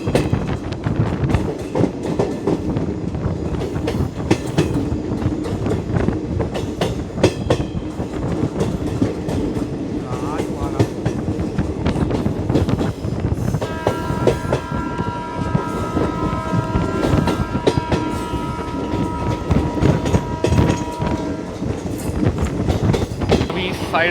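The Sabarmati-Jammu Tawi Express rolls steadily along the tracks on a curve with a rhythmic clatter of wheels, and a sustained horn-like tone partway through. A voice talks over it.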